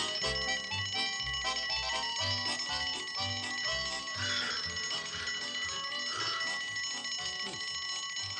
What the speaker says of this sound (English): I do believe Elsie's tinkling her little bell.